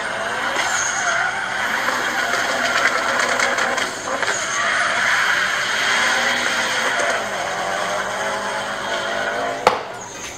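A Subaru STI fitted with a closed-deck engine drives past. Its engine note and road noise run steadily and loudly for the whole stretch, a brief sharp tire-squeal-like burst rises near the end, and no one speaks.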